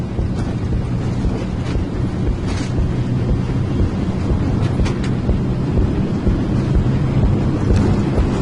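An airliner's takeoff roll at Dubrovnik on a flight bound for London Gatwick, heard as a dense, steady low roar of engines and rushing air throughout, with no talk.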